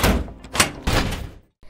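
A door knocked on in a film, heavy thumping blows on wood landing in a few loud bursts close by, followed by a short pause and one more softer thud.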